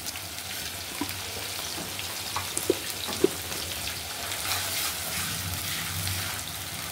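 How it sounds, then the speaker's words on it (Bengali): Sliced onions frying with a small amount of ginger-garlic paste and cumin paste, a soft continuous sizzle with a few faint pops, fairly quiet and without speech. "পেঁয়াজ এগুলাকে ভেজে নিচ্ছি।"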